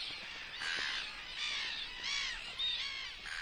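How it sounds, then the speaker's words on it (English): Brown-hooded gulls at a nesting colony in Argentina give a series of harsh, raspy calls, four or five in succession, moderately close with a faint outdoor background. "Here in Argentina, brown-hooded gulls are nesting."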